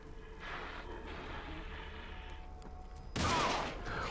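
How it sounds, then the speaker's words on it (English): Glock pistol gunshots in the video game The Evil Within: a loud, sharp burst of gunfire cracks out near the end over a steady background rumble. "Sounds like a Glock."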